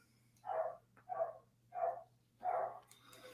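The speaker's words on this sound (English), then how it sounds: "Kyle, what's your dog saying?" A dog barks four times in an even rhythm, fairly faint, over a low steady hum with no talk.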